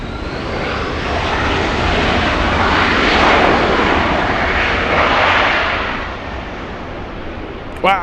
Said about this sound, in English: Wow, FedEx taking off